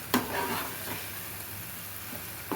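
Masala sautéed and stirred in hot oil for a Tirunelveli-style mutton lung gravy, a soft steady sizzle with a few sharp scrapes of the spoon against the pan, heard alone at low volume.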